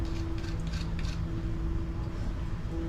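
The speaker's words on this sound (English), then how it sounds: "I have the dishwasher going in case you hear that noise" A household dishwasher running in a kitchen, giving a steady mechanical hum with a constant tonal drone and faint creaking whirs throughout.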